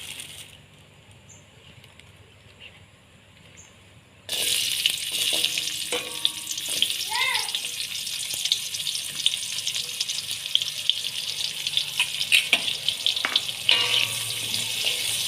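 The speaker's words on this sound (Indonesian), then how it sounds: "Lalu kalau minyaknya sudah panas, kita masukkan bawang putih dan bawang merahnya." After a few seconds of near-quiet, garlic and shallots hit hot oil and a loud sizzle bursts in, continuing as a steady hiss with spatula scrapes and clinks as the stir-fry is tossed.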